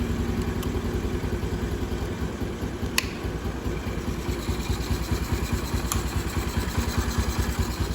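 A Honda Navi motorbike engine idles steadily up close, its low putter running evenly throughout with a few light clicks and no talk.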